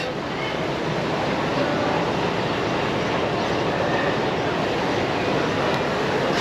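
Local train running from Dhaka to Narayanganj, a steady, loud rumble of rail noise with a wide hiss that holds unbroken throughout, close by and with no talk over it.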